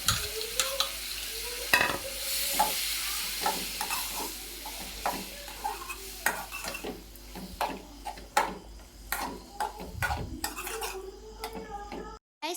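Mango pieces stirred in a pan with mustard seeds and curry leaves, close rhythmic scraping and clinking of a spoon on the pan over a soft background sizzle, steady throughout with a few sharper knocks.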